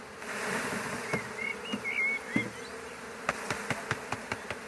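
Honey bees buzz steadily in a close, continuous drone around hive frames, with a few sharp taps and knocks near the end.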